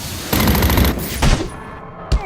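Close, loud bursts of automatic gunfire from the Batman Arkham Origins video game, two sustained rattling volleys followed by a single sharp shot near the end.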